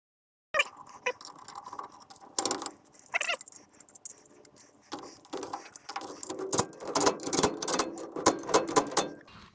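Bolts are tightened on a hydroboost bracket with a ratchet, heard as close, sharp clicking in uneven bursts. Short metallic clanks and pauses fall between them, and the clicking grows busier toward the end.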